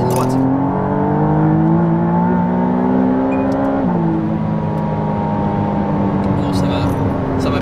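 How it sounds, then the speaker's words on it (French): McLaren Artura hybrid V6 accelerating hard on a straight, its engine note rising loud and close, dipping briefly at a gear change then climbing again. "je sais pas ce que vous en pensez de la sonorité de ce V6"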